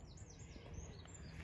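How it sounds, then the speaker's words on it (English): Birds chirp faintly at a still lake in the morning, a few thin calls sounding over quiet outdoor ambience. "Nice silent morning, to be fair, actually. With a few birds chirping."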